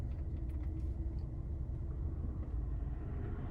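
A car cruising on a highway away from the city, heard from inside as a steady, dense low rumble of engine and road noise that holds level throughout, with no talking.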